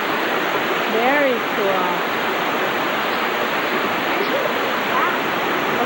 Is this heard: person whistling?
no